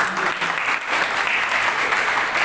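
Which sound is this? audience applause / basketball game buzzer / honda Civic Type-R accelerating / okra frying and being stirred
audience applause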